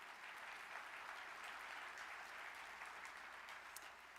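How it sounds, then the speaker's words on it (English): Sustained applause from a large audience at a plenary session of a general assembly, a dense steady wash of clapping that holds at an even level throughout, with no speech over it. "you can clap for that"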